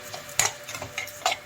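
A utensil stirs mushroom stuffing seasoned with pink rock salt in a pan, with a few short scraping clinks against the metal, close and fairly crisp, with no talking.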